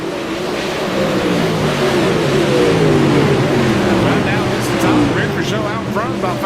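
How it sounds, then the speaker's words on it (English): An open-wheel dirt modified race car revs at Oswego Speedway during a spring championship, its engine note sweeping steadily up and down under a crowd-filled, loud, continuous track roar, with a race announcer talking over it. "So we got a car revving like"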